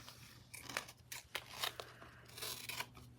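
Dull scissors trim the edge of a lace sample book at a craft table, giving a quiet series of short crisp snips and paper crunches in an uneven rhythm.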